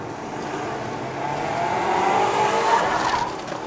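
Tires of a BMW 530i M Sport squeal in a sustained, rising whine while the car climbs a mountain road, with engine and road noise underneath.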